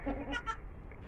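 A sheep bleats twice in quick succession, close and fairly loud, over a low outdoor background hum.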